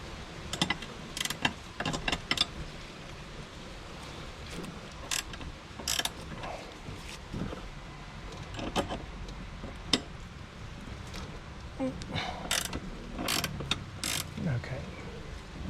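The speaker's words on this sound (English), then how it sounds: "15mm spanner." A 15mm spanner ratchets on a bolt while a front disc brake is fitted, producing scattered quick metallic clicks and ticks over steady background noise, with no speech.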